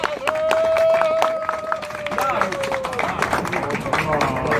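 A crowd at a café opening in central Riga bursts into applause with a brief sustained tone at the start. The clapping stays dense and close throughout, fading slightly toward the end.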